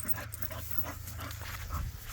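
An American Bully dog pants steadily and close by, a soft rhythmic breathing with a faint whimper near the end, no talk over it.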